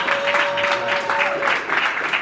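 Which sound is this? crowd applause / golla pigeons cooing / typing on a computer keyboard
crowd applause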